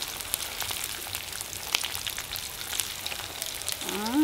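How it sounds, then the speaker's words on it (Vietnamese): Vietnamese spring rolls (chả giò) deep-frying in oil on a gas stove, a steady, dense crackling sizzle with scattered pops, close and continuous throughout. "là bạn Diễm quyết định là chiên bằng bếp ga cho mình canh lửa cho nó đều"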